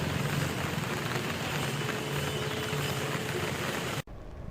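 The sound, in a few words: heavy rain in news footage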